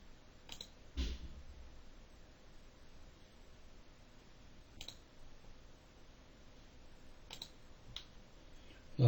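A computer mouse clicks while someone works through a web interface: a few sparse, faint, sharp clicks spread apart over quiet background hiss.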